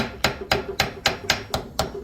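Seven evenly spaced metallic taps, about a quarter second apart, struck close by on a part of the linkage on IDA Weber carburetors, moderately loud and steady in rhythm.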